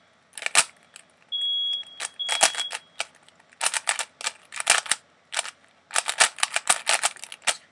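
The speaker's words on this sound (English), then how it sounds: "Strange, loud beeping noise." A speedcubing timer gives one steady, piercing high beep lasting over a second, with a second beep just after it, amid loud clicking and clattering of the cube and the timer pads.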